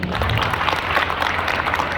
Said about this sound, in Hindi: दूसरी ताली आपके गुरुजन के लिए बजेगी